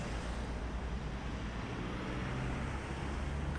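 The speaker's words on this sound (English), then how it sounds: "So now we've got traffic coming on both sides." Road traffic rushes past a cyclist from both sides, a faint continuous wash of car and heavy vehicle noise with no speech.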